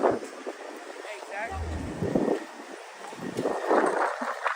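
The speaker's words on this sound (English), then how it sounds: "that wind" Wind gusts outdoors on a bitterly cold Manhattan street, buffeting the microphone in uneven low rumbling bursts, with a voice talking over it.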